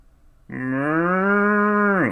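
A man imitates a cow's moo with his voice, one long, loud, sustained lowing call lasting about a second and a half, rising then dropping off at the end, alone with no talk over it.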